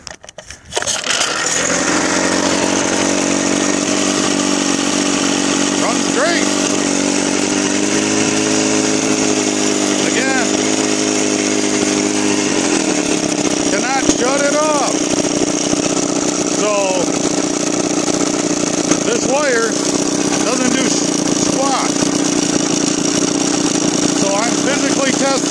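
Small engine with a CDI ignition being tested for stator failure starts and runs, a loud buzzing rattle that shifts pitch partway through with rising and falling revs, with occasional talk over it.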